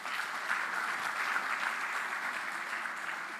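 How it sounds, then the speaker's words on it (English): Career expo launch audience applauding the engineering department, an even, continuous round of clapping at moderate distance with no pauses. "Guys, put your hands together for the engineering department."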